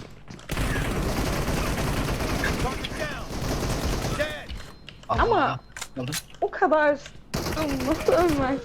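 Rapid bursts of gunfire from the mobile battle royale game PUBG Mobile rattle loudly through the first half, then fall away to scattered shots mixed with a voice speaking Turkish over game sounds.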